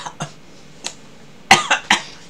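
A person coughs after eating mozuku seaweed with vinegar: a few short, scattered coughs, then a close, harsher cluster of three throaty coughs in quick succession.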